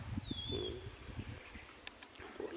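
Birds call out in the hills: a dove-like coo and a few short chirps and whistles, faint and distant against quiet outdoor background noise.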